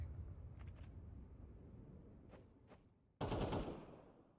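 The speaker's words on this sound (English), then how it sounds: "even more so now as gunshots have been made" Gunfire in the video game Counter-Strike during a Falcons versus The Prodigies match: faint clicky shots early, then a sudden loud burst of shooting near the end that trails off, over a low background din.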